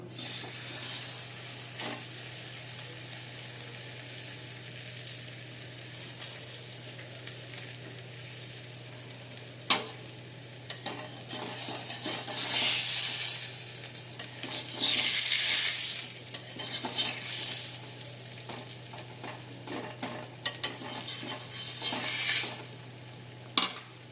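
Sesame-topped aloo paratha frying in a pan, with a steady soft sizzle throughout, gentle scraping and stirring clicks, and sharper clinks of a utensil against the pan now and then.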